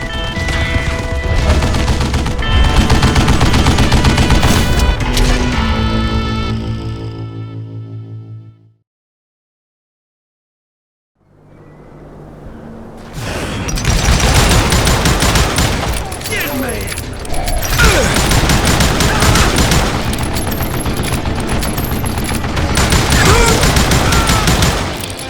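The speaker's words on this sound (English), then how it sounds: "Kid Curry opened up on me with a goddamn Gatling gun" Gatling gun fire from a shielded tunnel in Call of Juarez Gunslinger: loud sustained rapid shots roar, cut to near silence for a few seconds, then resume with dense crackling bursts and booms.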